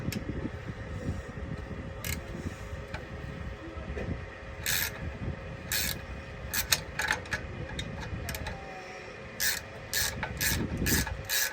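Wrench breaking loose the rear brake bolts on a 2022 Toyota Tundra SR5 4WD: scraping, ratcheting metal clicks and rubbing in bursts over a steady background hum, fairly close.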